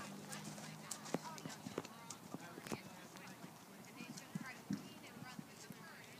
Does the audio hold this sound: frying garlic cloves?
no